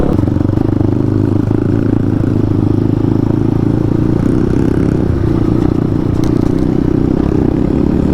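A loud motorcycle engine drones steadily and close on a trail ride, with constant rumble and rattling clatter and no pauses.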